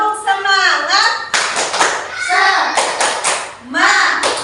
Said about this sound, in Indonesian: Kalau kau mau lewat ucapkan permisi, tepuk semangat